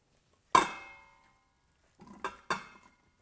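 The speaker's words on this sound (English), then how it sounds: "to that I'm going to add the chopped vegetables" Chopped vegetables tipped into olive oil in a cooker's inner pot: one sharp clattering drop with a fading hiss, then after a pause a short burst of clinks and scrapes as they settle. No talking.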